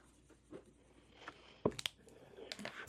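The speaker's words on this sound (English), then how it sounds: "So we have envelope 21 and envelope 20. So we'll go ahead and color those in." Soft scratchy strokes of a pen or marker coloring in numbers on paper envelopes, close and quiet, in short bursts with a couple of sharper taps and pauses.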